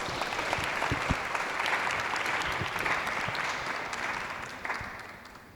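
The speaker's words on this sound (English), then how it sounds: "Let's give our panelists a round of applause" Audience applause for panelists at a community partnerships event, a steady, moderately distant wash of many hands clapping, with a few sharper individual claps standing out, sustained for several seconds and easing slightly at the end.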